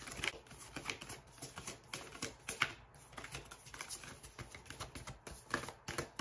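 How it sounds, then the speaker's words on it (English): A deck of cards is shuffled with quick, crisp riffling flutters in steady bursts, close up and fairly soft, with no voice over it. "I'm not even done shuffling"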